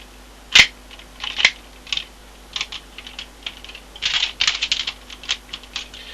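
Plastic Transformers Armada Megatron toy being reshaped into tank mode gives a scattered series of sharp close clicks and snaps, with lighter rattling parts between the louder clicks and no talking.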